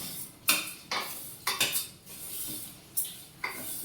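A utensil stirs turmeric into dal in a metal pan, giving a series of sharp scraping clinks and knocks at an uneven pace, close and fairly loud with no talk.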